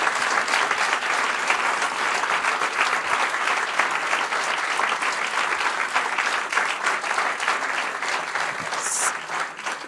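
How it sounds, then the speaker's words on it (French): A crowd at an awards ceremony for a Mont Blanc radio station applauds its team, a dense, steady roar of many hands clapping near and loud for about ten seconds, with a few scattered voices mixed in. "Un tonnerre d'applaudissements pour eux,"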